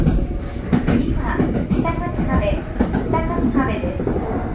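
A Tobu local train rolls near Kasukabe station, with a steady rumble of wheels on rails and some rhythmic clatter heard from inside the car, along with an onboard announcement voice.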